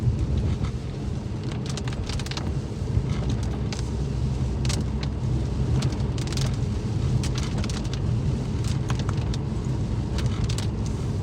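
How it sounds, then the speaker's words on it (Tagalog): Heavy, icy rain drums on a car windshield, a dense, continuous patter close up over a low rumble from the vehicle, steady and unbroken throughout. "Ay, grabe ng ulan."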